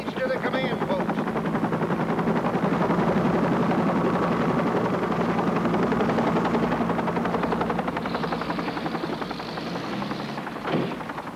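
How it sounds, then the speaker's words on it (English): Helicopter rotors throb steadily and loudly throughout, a continuous pulsing drone with a brief sharper burst near the end. "We have helicopters coming and going."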